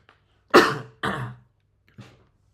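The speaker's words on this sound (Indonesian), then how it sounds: "saya agak batuk" Two close, harsh coughs in quick succession, followed after a pause by a softer third cough, with quiet in between.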